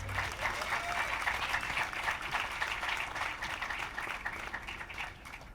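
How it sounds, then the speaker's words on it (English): Applause from an audience at an evening event on Latina politics, a steady wash of clapping held at an even level for several seconds and tapering slightly near the end. "so give them a hand"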